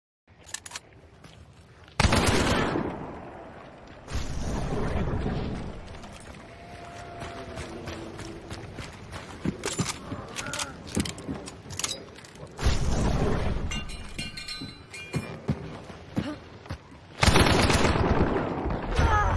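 Sniper rifle shots in Hunt: Showdown ring out as several loud, separated cracks spaced seconds apart, each with a long booming tail, amid quieter game ambience and occasional mechanical clicks.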